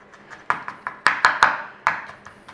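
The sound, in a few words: mashing garlic with a garlic masher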